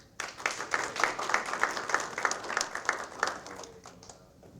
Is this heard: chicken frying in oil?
no